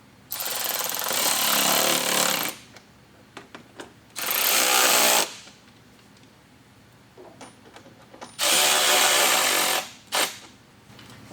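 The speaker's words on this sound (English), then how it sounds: "Now we're just going to take our screwdriver and we're going to screw these in." Power screwdriver driving screws into Rokblokz mud flaps on a 2022+ Hyundai Santa Cruz, with three loud, close buzzing bursts of a few seconds each, separated by quieter handling clicks and a short final burst.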